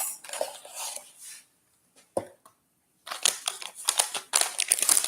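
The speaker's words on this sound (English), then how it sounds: "That's my dishwasher going. I'm washing dishes." Dishes being washed by hand in a home kitchen with a dishwasher running: clinking plates, cutlery and pans in irregular bursts, close and fairly loud, with a short silent gap midway.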